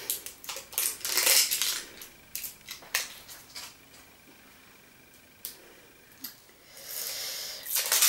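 Plastic packaging of an Yves Rocher cosmetic product being torn and unwrapped indoors, a run of crinkly rustles and tearing bursts in the first few seconds, then quieter handling with a couple of sharp snaps and a final crackle.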